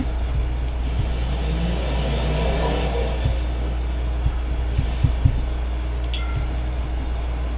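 A car drag racing in the video game BeamNG.drive gives off a steady low engine drone with a few faint clicks and knocks. The sound is moderately loud, continuous, and has no talking over it.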